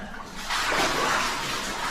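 Water rushing and splashing at a waterfall inside Pettyjohn's Cave, a bright, hissing roar that swells up after a quieter start and holds steady without talk.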